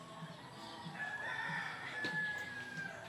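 A rooster crows once in a rural community setting, a clear mid-distance cock-a-doodle-doo over faint background clucking from other fowl, with no speech.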